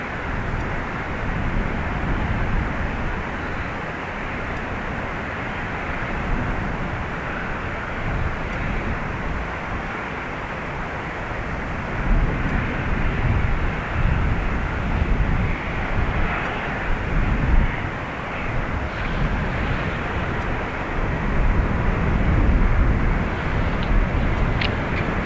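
A Ryanair airliner takes off from runway 28 right at Dublin Airport, a steady broad engine roar lasting throughout, building slightly toward the end and heard from a distance without voices.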